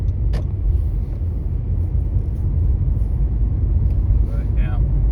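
Car driving on a road in northern Kentucky after rain, a steady loud low engine and road rumble heard from inside, with a brief click early on.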